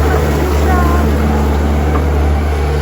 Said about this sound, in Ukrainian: Рішений тракторець опять приїхав тільки до нас на дворик.